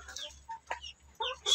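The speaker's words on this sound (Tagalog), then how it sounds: "So kakainin niya ng ating alagang manok." A pet chicken clucking close by in a backyard, several short, sharp clucks in an uneven rhythm separated by brief pauses, with a faint low hum underneath and no talking.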